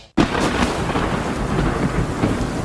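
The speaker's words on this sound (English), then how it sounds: "we're just dealing with these sheets of rain and winds that are howling 50, 60 miles per hour" Heavy sheets of rain and wind howling at 50 to 60 miles per hour pound down in a storm, a loud, steady, close roar that starts abruptly and continues without a break.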